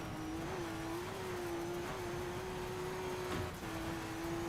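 A BMW Z4 engine revs in the DiRT 3 racing game with a steady, droning pitch that wavers slightly as the throttle shifts. It stays loud and continuous throughout, with no talking.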